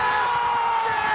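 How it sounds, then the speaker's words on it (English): A dense arena crowd at the American Ninja Warrior Dallas Qualifiers roars and whoops in celebration, a loud continuous wall of cheering over the whole moment. "Look at the cheers of joy!"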